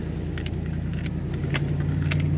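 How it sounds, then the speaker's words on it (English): Car tires spinning in deep, dry, fluffy sand on a sandy track, a steady low engine drone and whirring churn with a few brief higher rattling bursts, continuous and fairly close. "Whoa, I'm starting to spin a few tires."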